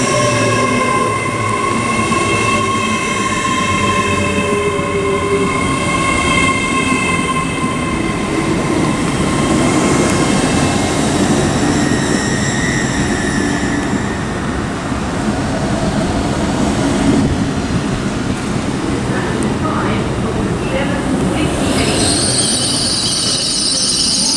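Class 801 unit 801205 passing through Stevenage on the East Coast Main Line on a Leeds–London King's Cross service, a loud sustained rumble with tonal motor whine and wheel squeal rising near the end.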